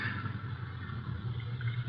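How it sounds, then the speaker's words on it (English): A car engine in an old-time radio drama sputters and idles roughly with a low, continuous rumble and a faint clatter, fading toward stalling, with no voices over it. "That infernal engine has died."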